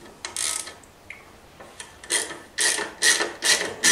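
A 12 or 13 mm socket ratchet wrench loosens the ignition screws on a scooter such as a Nitro or Aerox, giving bursts of close, sharp clicking in short runs, quiet at first and louder toward the end.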